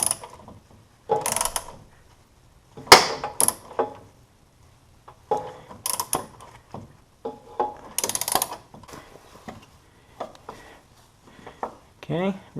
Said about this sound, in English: I'm taking the socket wrench and just tightening it down.